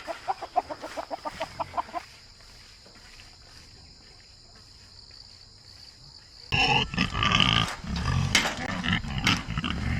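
Chickens cluck in a rapid run at the start, then a quiet gap, then a louder busy stretch of fowl and rooster calls close by, with no talk.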